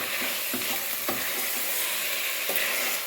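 Tomatoes fry in a pan for vegetable biryani with a constant hissing sizzle, while a utensil knocks and scrapes against the pan every so often as the mixture is stirred.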